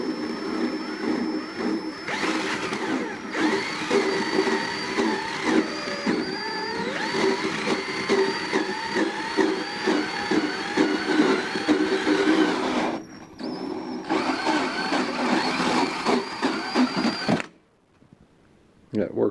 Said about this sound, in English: after I start the hole saw, I very slowly kind of just move this thing up and down